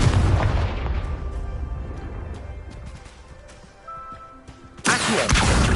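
The Confringo fire spell blasts in Hogwarts Legacy, a loud booming explosion that fades out over several seconds before a second sharp blast near the end.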